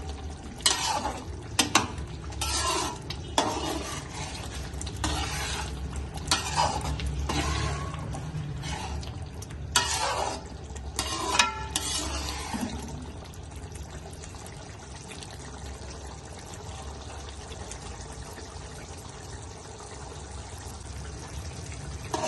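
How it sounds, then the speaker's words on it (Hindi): Minced meat with peas and dried fenugreek is stirred and roasted in a pan as the water cooks off, with irregular scraping and stirring strokes over a soft steady sizzle that carries on alone after the stirring stops. "अब हमने ये पानी सारा सुखाना और इसको भूनना है।"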